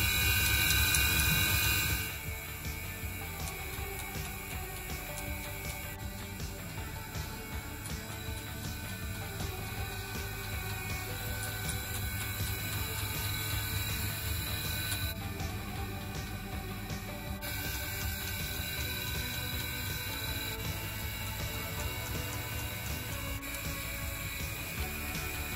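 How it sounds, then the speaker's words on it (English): A CNC machine cuts a flash-pattern bangle: a steady, dense mechanical whir with a high tonal whine holds close and even for the whole stretch after a louder opening moment. "So my first tool is ready to work and the operation starts. The flash bangle has many cuts, so it will take a little bit while to finish the bangle."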